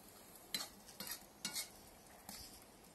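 Beef chakhokhbili with tomatoes stirred in a kazan over an open fire, a few quiet scraping strokes of a utensil in a soft, faint sizzle.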